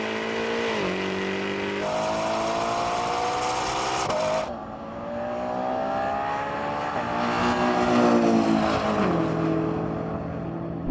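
A 1200-horsepower car races a Ferrari Purosangue, its engine droning loud and close as it revs up through several gear changes, the pitch climbing, dropping at each shift, then climbing again.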